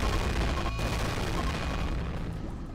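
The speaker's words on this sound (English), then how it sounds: "After the massive, catastrophic explosion" Super heavy bombs explode in the colony-building game RimWorld, a sustained, loud, rumbling roar with a sharp burst near the start, then a dense low rumble that slowly fades, with no talking.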